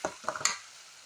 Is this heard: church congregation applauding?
no